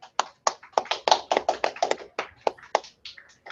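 A small group at a summit event clapping for students: sparse, close, distinct hand claps in an uneven patter against quiet background.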